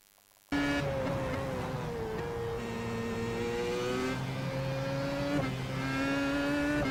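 A Williams FW31 Formula 1 car laps Monza with a high, sustained engine scream that swells and dips with throttle changes through a section of corners, loud and steady from onboard.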